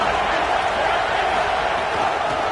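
In a college football video game, a packed stadium crowd gives off a dense, steady roar that fills the whole moment without breaks.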